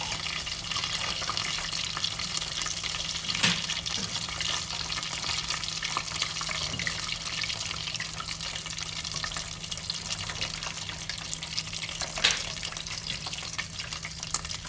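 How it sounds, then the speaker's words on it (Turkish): Steady, busy sizzle of pizza börek pastries frying in hot oil, crackling continuously throughout with an occasional louder pop. "Böreklerimi bu şekilde kızartmaya devam ediyorum."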